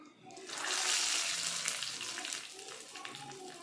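Spices tempering in hot oil for an onion tomato chutney give off a soft, continuous sizzle and crackle that swells quickly and then stays steady and fairly quiet.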